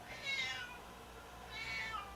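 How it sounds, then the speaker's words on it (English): A pet cat meows twice, one drawn-out cry near the start and another about a second later, moderately close in an otherwise quiet room with no talking. "my cat has just decided to join me and give me grief"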